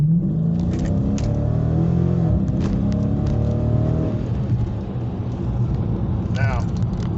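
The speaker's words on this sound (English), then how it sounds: "I'm just going to give it some throttle, not full throttle, probably 3/4." A Dodge Challenger 392 V8 accelerating at about three-quarter throttle from a roll near 20 mph, its loud engine note rising steadily from the start and holding a deep rumble throughout, heard close from inside the car.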